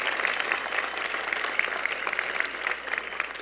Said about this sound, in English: I noticed that the parents were really clapping for that one.